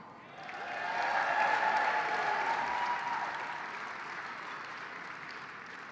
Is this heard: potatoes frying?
no